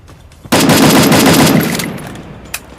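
Rapid automatic gunfire from the battle royale game Free Fire bursts in loudly and sustains for about two seconds, with a sharp single shot near the end.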